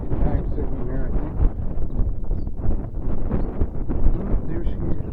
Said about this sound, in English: Okay, that's how the wind's doing.